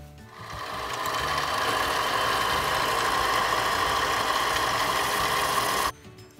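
A Harbor Freight mini lathe turning a precision bushing with a homemade carbide-insert tool gives a steady, close mechanical whir with a constant cutting hum for about six seconds, then stops abruptly, with no speech.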